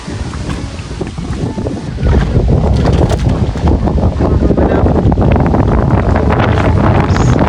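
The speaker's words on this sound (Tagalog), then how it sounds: "Sa lakas ng hangin." Strong wind at a fishpond buffets the microphone in a loud, continuous rumbling roar that grows heavier after the first couple of seconds, with no voices.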